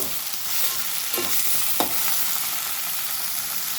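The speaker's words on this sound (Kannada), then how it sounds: "ಒಂದು ರೌಂಡ್ ಮಿಕ್ಸ್ ಕೊಟ್ಟು ಇನ್ನೊಂದು ಟೂ ಮಿನಿಟ್ಸ್ ಹೀಗೆ ಎಣ್ಣೆಯಲ್ಲೇ ಬೇಯಿಸಬೇಕು" Carrot, beans and tomato sautéing in oil in a pan for vermicelli uppittu, a steady soft sizzle with a couple of quick spatula strokes near the middle, close and without speech.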